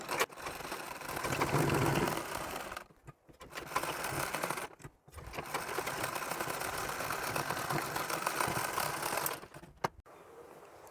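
A sewing machine runs in long continuous bursts while stitching a one-year-old baby's saree blouse, the motor whirring steadily with brief pauses between seams.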